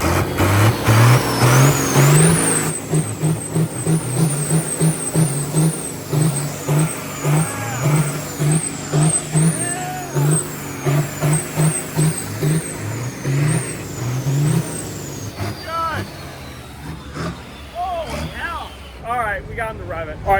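Semi truck tractor engine revving hard at an evening truck show, repeated loud throaty bursts rising and falling in steady pulses close by, with a high whistling tone above, excited shouting and cheering over it.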